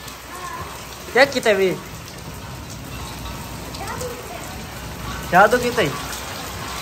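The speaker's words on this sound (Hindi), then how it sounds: "एक मिनट में इतनी बारिश आ गई है" Heavy rain pours down steadily as a constant wash of noise, with a voice speaking over it in short bursts.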